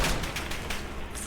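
Rapid gunfire from an M1911 pistol in an online combat arena video game: a quick volley of sharp, loud shots in an irregular burst, close and without talk.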